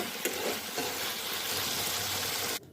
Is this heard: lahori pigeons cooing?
no